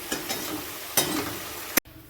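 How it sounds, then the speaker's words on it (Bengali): Sour silver cup fish curry with mango pulp and potatoes simmering in a pan, a steady bubbling and sizzling hiss throughout with a couple of brief louder clinks or stirs, then an abrupt cutoff. "ঝোলটা দেখুন ফুটে উঠেছে।"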